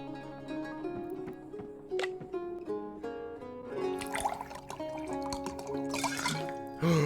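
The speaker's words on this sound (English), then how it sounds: "You lad, come, pour me a drink." Drink poured in the video game Card Shark: liquid trickles and drips steadily into a cup over several seconds beneath soft game music, with no talking.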